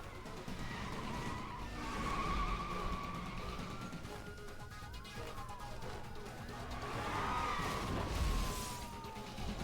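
Cars racing through streets in the Need for Speed video game with a BMW, police in pursuit: a steady, loud engine roar with long tire skids and squeals rising and falling throughout.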